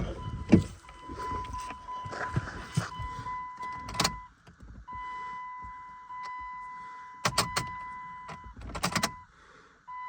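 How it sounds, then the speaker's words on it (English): A red Dodge Durango, an older truck with a rusty body, is cranked again and again to start. Short grinding bursts of cranking near the end stand out against a steady electronic warning chime, with some shuffling and handling noise close by. "I'll try to crank this up one more time."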